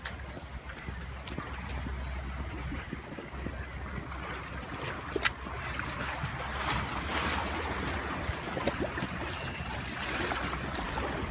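A river flows outdoors in a steady, moderate wash of water with a low rumble beneath it, continuous and without speech.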